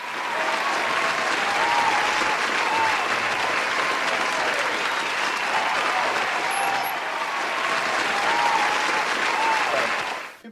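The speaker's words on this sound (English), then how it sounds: "Let's give it up for him." A studio audience at a live talk show gives a guest sustained, loud applause, dense clapping that holds steady for about ten seconds before tapering off at the end.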